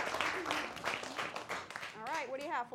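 Audience clapping for a kids' house band at a charity telethon, mixed with cheering voices and a person talking over it.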